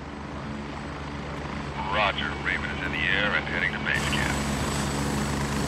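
A helicopter in the video game Gray Zone Warfare hums steadily with rotor and engine noise, fairly loud and continuous, as a voice talks over it.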